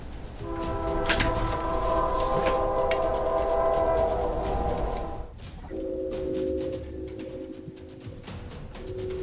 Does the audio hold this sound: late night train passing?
yes